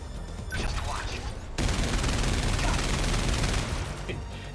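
Cannons fire a rapid barrage at incoming missiles during a mech battle in 13 Sentinels: Aegis Rim, a dense rattling volley of blasts that starts abruptly and holds steady for several seconds.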